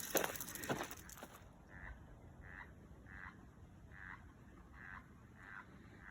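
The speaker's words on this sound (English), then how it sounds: "Frogs are all talking in the vernal pools." Frogs call from vernal pools on a spring forest walk, a regular series of short, faint croaks repeating about once a second against quiet woodland background after a brief rustle.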